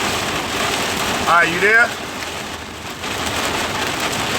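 Heavy rain pours down outside in a dense, unbroken hiss, while someone speaks briefly over the downpour.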